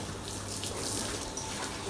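Water sprayed over a car during washing, a faint, steady hiss of spray and splashing that runs without a break.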